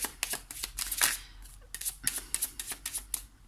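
Tarot cards being drawn and shuffled from a deck, a run of quick crisp flicks and riffles in uneven bursts with a brief pause midway, close and fairly quiet.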